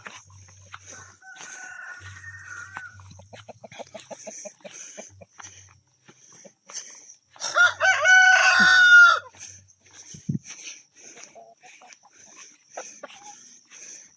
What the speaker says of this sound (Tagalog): Yung manok ko.